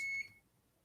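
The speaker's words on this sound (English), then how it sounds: "That's my alarm going off telling me that I have a Red Bull in the fridge." Phone alarm sounding with a single steady electronic tone held for about a fifth of a second, then cutting off into quiet room ambience.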